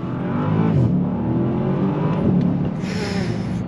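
A 2021 Bentley Continental GT Mulliner accelerates hard from inside the car, its engine note climbing and dipping through gear changes in a loud, continuous roar.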